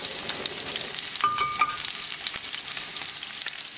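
Salmon fillets pan-frying in hot oil give a steady, close sizzle with crackling spatter throughout, and a brief clink of utensils partway through; no one speaks.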